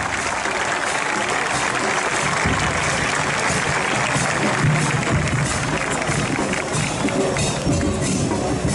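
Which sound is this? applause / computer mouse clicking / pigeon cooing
applause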